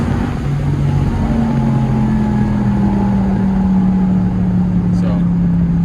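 SRT Jeep accelerating hard, its engine note a steady loud drone that rises slowly with upshifts made through paddle shifters, heard from inside the cabin with constant road and wind noise beneath.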